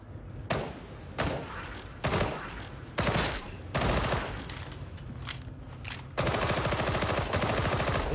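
Repeated loud bursts of automatic gunfire in Warhammer 40,000: Darktide, several short volleys spaced about a second apart, then a sustained longer burst at the end.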